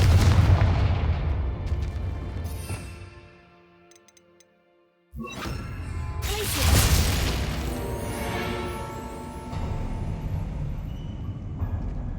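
Confringo spell blasts in Hogwarts Legacy: a loud burst that crackles and decays into near silence, then a second sharp explosion followed by a booming, rumbling tail and scattered debris clatter, all without speech.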